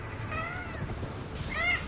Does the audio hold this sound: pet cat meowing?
yes